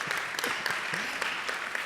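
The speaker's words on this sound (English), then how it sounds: "I think we should give the audience a round of applause" Audience applause at the IESE Global Alumni Reunion 2016, steady clapping from a sizable crowd with a few sharper claps standing out.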